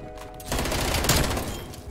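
Rapid automatic fire from an FFAR rifle in the Black Ops Cold War video game, a dense continuous burst of gunshots that starts abruptly and runs loud and close throughout, with no talking.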